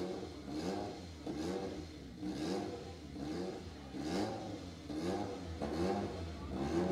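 Nissan GT-R R35 at a drag race start line in Kosovo, its engine revving in a steady series of pulsing surges, loud and close, with no talk.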